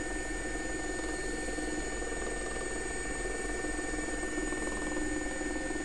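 A steady, even helicopter drone from an SA-342 Gazelle in the X-Plane 11 simulator, lifting off gently skid by skid, continuous turbine whine and rotor hum without a break.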